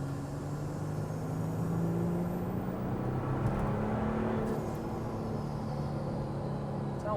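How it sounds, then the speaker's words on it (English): Steady engine and air-intake roar from a VW Amarok 3.0 V6 with an induction kit and a 2872 turbo, pulling under light load out of a roundabout; continuous, fairly loud and even throughout, with no talking. "You can definitely hear a lot of intake of air."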